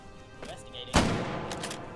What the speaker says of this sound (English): I think I shot his gun out of his hand there